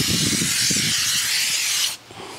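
A loud, close hiss of spray as wheel cleaning product is misted onto a Ford F150 truck rim, holding steady before cutting off sharply near the end.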